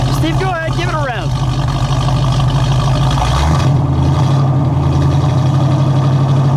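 A 1970 Oldsmobile Toronado GT with a front-drive 455 cubic-inch V8 rumbles loudly and close, its engine note rising in a rev that then settles back to a steady idle, with a voice speaking over it.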